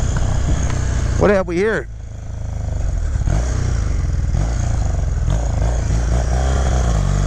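A 1981 Honda CM400T motorcycle engine runs loud and close, its steady rumble holding throughout, while someone speaks briefly over it early on.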